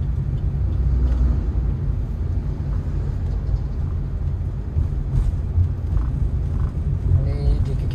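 A Suzuki Ertiga cruises in third gear on a busy town road, its engine and road noise forming a steady close low rumble inside the cabin throughout.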